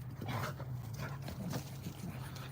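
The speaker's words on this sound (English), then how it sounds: "my dogs are going crazy" Several pet dogs nearby whimper, pant and let out short yelps in an indoor room, a restless stream of whiny vocal bursts with no speech over them.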